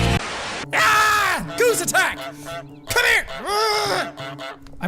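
Goose-like honks sound in an anime scene, a cartoonish voice imitating a goose with loud, wavering nasal cries in several bursts, close and over light background sound.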